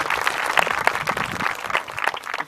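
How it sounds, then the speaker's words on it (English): Graduation ceremony crowd applauding two graduates at a regional school, dense steady clapping for a couple of seconds. "A round of applause for Laura and Noah"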